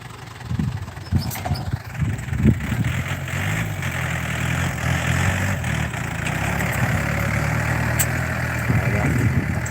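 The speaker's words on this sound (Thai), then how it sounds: "ขับรถไถวันนี้" A tractor engine idles and chugs steadily at close range, a low rumbling drone with a few sharper knocks early on.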